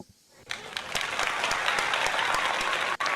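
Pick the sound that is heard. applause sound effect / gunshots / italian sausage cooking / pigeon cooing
applause sound effect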